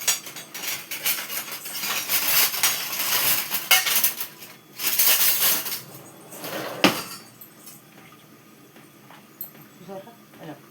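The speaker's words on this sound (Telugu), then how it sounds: "ఒకసారి గరిటతో తిప్పుకున్నాం" A ladle stirs dal simmering with tamarind, tomato and jaggery in a metal cooking pot, producing loud scraping and clinking against the metal in busy bursts that fade into quieter occasional knocks while a voice talks.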